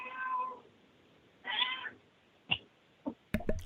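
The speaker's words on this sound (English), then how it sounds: "There's a helper in the background. We got a cat this morning to get involved here." A cat meows several times in the background of a quiet indoor room, the short calls coming at irregular intervals and fairly faint.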